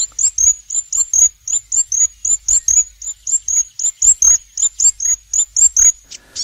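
Birds in a New Zealand rainforest sing close and clear, a rapid series of bright, high chirps repeating in a quick, regular rhythm against an otherwise quiet background.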